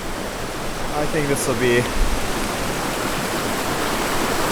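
Fast-moving water at an Appalachian Trail stream crossing in the 100 Mile Wilderness rushes loud and steady as a broad, constant roar, with someone speaking briefly over it.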